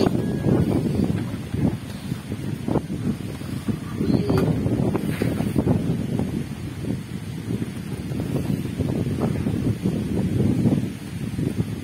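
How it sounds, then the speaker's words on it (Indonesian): A strong windstorm at Jatiluhur Reservoir roars in heavy gusts, buffeting the microphone, with rustling and rattling debris and flying metal roof sheets throughout. "Aduh, badai lagi kayaknya ini mah."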